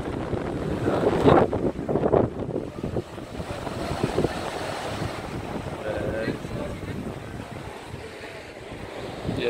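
Wind buffets the microphone above the sea below the high Benagil cliffs in the Algarve, with a steady wash of waves far beneath and gusts that rise and fall. There is no talk.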